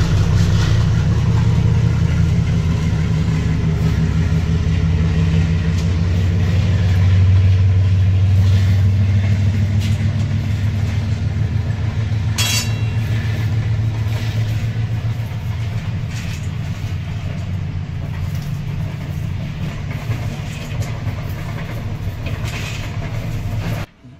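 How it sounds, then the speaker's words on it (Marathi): A train runs past nearby, producing a loud, sustained rumbling roar with rattling clickety-clack from the wagons, which eases off slightly toward the end before cutting out. "रेल्वे चाललेली आहे।"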